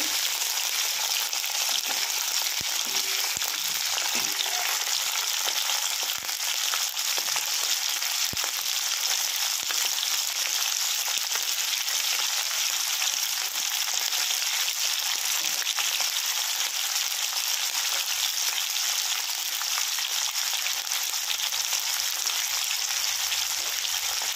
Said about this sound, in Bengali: ফুলকপিগুলো ভালো করে একটুখানি লাল লাল করে ভেজে নেব।